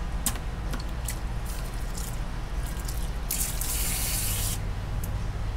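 Graco Magnum Project Painter Plus paint sprayer spraying water while being flushed, a steady close hiss with brief spurts and bursts of louder spray, no voices.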